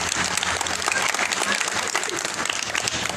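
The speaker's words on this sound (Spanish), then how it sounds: "¡Fuertes los aplausos!" A crowd at a swearing-in ceremony in San Andrés Huaxpaltepec, Oaxaca, breaks into steady, dense applause that fills the whole moment.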